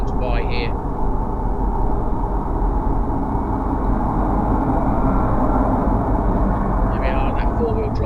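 A vehicle towing a 4-wheel drive whose front wheels spin as fast as the back, a loud continuous engine and tyre roar filling the whole stretch with a dense low rumble.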